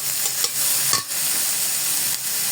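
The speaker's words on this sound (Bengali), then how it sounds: "এটাকে একটু হালকা গোল্ডেন ব্রাউন হওয়া পর্যন্ত ভেজে নেব।" Chopped onions frying in a pan for malai chicken, a steady close sizzle with light stirring scrapes, cooked toward golden brown.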